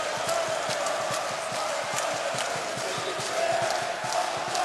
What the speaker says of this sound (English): the Fenerbahce crowd here is really trying to get their team up